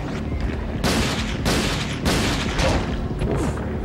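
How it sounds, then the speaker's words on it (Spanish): Three loud, sharp gunshot blasts in Resident Evil Dead Aim on PS2, spaced about a second apart over a steady rumbling background, with a booming, game-like quality. "le he metido 3 disparos"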